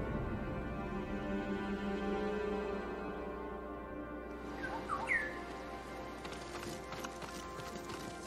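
A bird chirps in the video game Ghost of Tsushima, giving a few brief, bright calls midway over a steady outdoor ambience with faint rustling.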